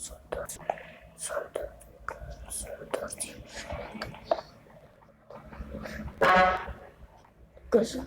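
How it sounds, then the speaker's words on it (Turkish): A short car horn honk sounds from a distance outside, briefly cutting through close whispering and small clicking handling noises during Minecraft play. "korna sesi geldiyse dışarıdan geliyor."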